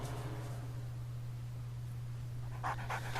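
A dog panting in the survival video game 7 Days to Die, quick breathy huffs over a steady low hum and background hiss, with a few louder rustling bursts near the end.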